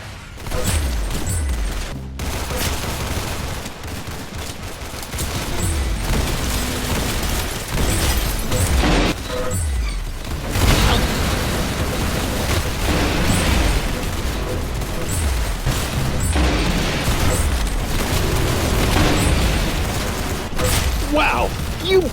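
Gunfire bursts, booms and mechanical reload clicks from the video game Arsenal repeat across a dense, loud stretch, interleaved with short game announcer voice lines.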